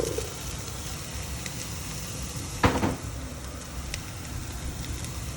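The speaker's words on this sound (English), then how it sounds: "Then I'm going to go ahead and stir and saute with the olive oil" White onion and chopped celery sauté in olive oil, a soft steady sizzle close by, broken midway by one brief louder scrape or clatter.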